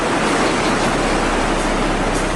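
A cartoon waterfall pours as a constant, loud, broadband rushing hiss of falling water, unbroken and steady from start to finish with no voices.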